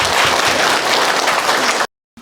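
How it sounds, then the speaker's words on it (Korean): An audience claps loudly and densely at a talk, steady applause that cuts off abruptly into silence near the end. "여러분 박수 한번 부탁드립니다."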